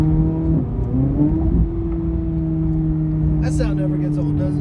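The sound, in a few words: Corvette C8 Z06 engine revving as car pulls away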